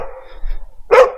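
A single loud, close dog bark rings out in a residential neighborhood near a shopping center, coming after a moment of quieter background sound.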